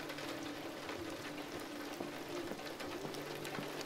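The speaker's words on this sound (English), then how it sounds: "Heavily raining. Heavy rain." Steady heavy rain in the video game Detroit: Become Human hisses and patters on surfaces, a dense continuous downpour with a few faint clicks beneath it.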